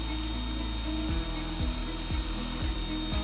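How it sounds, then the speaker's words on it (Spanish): Power drill boring holes into a wall to mount a CATA Thalassa designer range hood, a steady loud motor whine with a few repeated bursts as the bit bites, no voices. "haremos los taladros"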